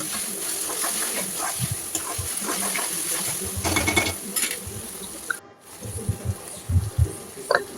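Ginger-garlic paste frying in oil in a pan for prawn curry, a steady close sizzle with occasional stirring clatter and soft knocks.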